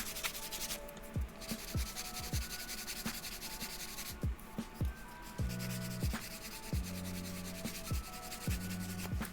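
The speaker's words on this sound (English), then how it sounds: "This is basically just to give friction so that it generates enough heat so that we can burnish the edges properly." A piece of canvas rubs rhythmically against leather edges to burnish them, a fast series of close, dry, scratchy back-and-forth strokes with a faint buzzing tone in some strokes.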